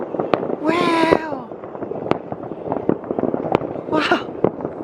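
Dense New Year fireworks crackle and pop repeatedly at close range, with sharp isolated bangs scattered through a continuous rumble. Voices shout and cheer twice over the noise.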